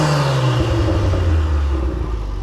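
A Volkswagen MK7 GTI with a stage 2 tune revs up briefly, a loud close engine rumble whose pitch climbs over a couple of seconds, with no talking.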